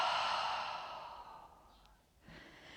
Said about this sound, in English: And exhale out the mouth.